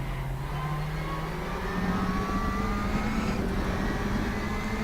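A WTCR 2020 touring car engine in the RaceRoom Racing Experience sim, held flat out along a back straight, drones loudly and continuously, its note climbing steadily in pitch as it accelerates, with no voices over it.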